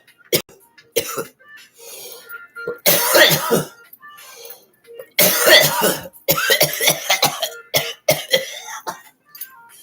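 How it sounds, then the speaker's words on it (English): Harsh, repeated coughing and throat clearing after smoking a bubble gum pre-roll, coming in several loud bursts separated by short pauses, close to the listener. "Got me coughing."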